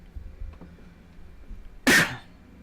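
A single harsh, loud cough from someone who has taken too many cannabis dabs bursts out near the mic after a quiet stretch and fades over about half a second.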